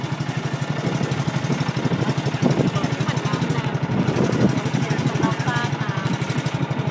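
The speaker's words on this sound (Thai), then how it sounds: "ขณะนี้เรือกำลังค่อยๆตีวงไปนะครับ" A steady, droning boat engine chugs continuously at a fairly close distance as the boat circles, with a regular low pulsing throughout and no talking.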